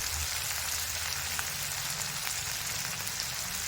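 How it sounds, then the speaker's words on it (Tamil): Potatoes fry in oil under a lid in a covered pan, a soft, steady, even sizzle like light rain on a surface, quiet and close, with no voices. "எண்ணெயிலே உருளைக்கிழங்கு மூடி வச்சுருங்க. ஒரு ஆவியில் வெந்துடும்."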